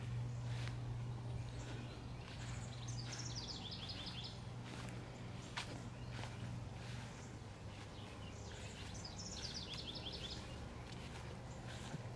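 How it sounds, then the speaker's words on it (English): Birds chirp in a backyard garden near a duck pond, bursts of bright twittering repeating on and off over a steady low outdoor hum, moderately distant and without talk. "But you can hear the birds chirping out."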